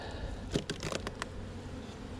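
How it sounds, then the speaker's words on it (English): Bees buzz around an open beehive while the lid is off for a pollen patty, a faint steady drone with a few brief knocks and rustles from handling the hive. "A lot of bees here"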